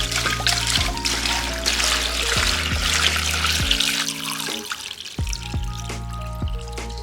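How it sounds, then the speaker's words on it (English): Filtered water poured into a pot for bone broth, a steady close trickle and splash that continues throughout with low tonal hum beneath. "I'm just gonna fill it with filtered water."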